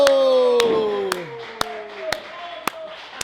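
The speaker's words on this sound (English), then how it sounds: "I am clapping" Commentator clapping at a pro wrestling match, about seven sharp, close claps at a steady beat. Over the first seconds a sustained tonal voice or crowd sound fades out beneath them.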